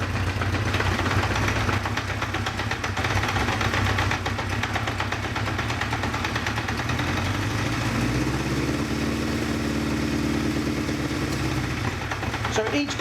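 A multi-cylinder motorcycle engine idles steadily with a fast, even throb during carburettor balancing, its pitch shifting slightly partway through as the pilot screw on one carb is adjusted, close and continuous.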